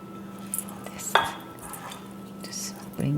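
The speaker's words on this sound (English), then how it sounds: "just use the spatula to fold the dough" A spatula scrapes and knocks against a bowl while folding bread dough, with a few soft clinks and one brighter scrape amid quiet background hum, close and fairly faint.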